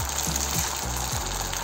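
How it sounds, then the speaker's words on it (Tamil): Adai dosa batter sizzles on an oiled hot pan, a dense, close, continuous frying crackle with no voices over it. "ஆயில் நல்லா தடவிட்டுட்டு 1/2 கரண்டி மாவு போட்டுக்கலாம், ஊற்றிக்கலாம்"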